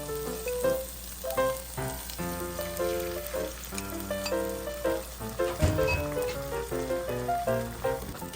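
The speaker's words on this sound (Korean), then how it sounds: "우선 이렇게 버터를 넣고 녹이고" Butter melts and sizzles in a pan for a tortilla sandwich, a steady close-up frying crackle under soft background music.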